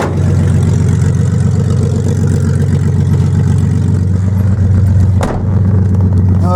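A 1979 Datsun 280ZX engine with an upgraded exhaust runs loud and steady at close range, a deep pulsing drone that holds for several seconds with a brief blip near the end, no talking over it.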